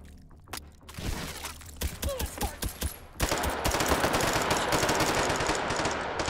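Rapid automatic gunfire from the VR shooter Hot Dogs, Horseshoes & Hand Grenades in Take and Hold mode: a string of loud single shots, then a dense sustained burst of firing that continues to the end.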